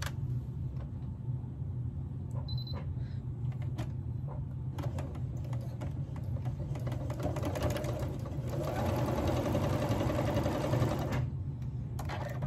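Sewing machine stitching the corner edge of a sawtooth star quilt block, a steady close whirring hum with rapid needle clatter that runs continuously and grows a little louder toward the end.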